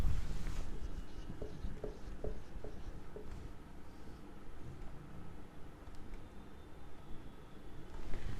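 Pen scratching on paper while accounts figures are written out, soft close strokes in short bursts with quieter pauses between them.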